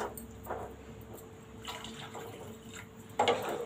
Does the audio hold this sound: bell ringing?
no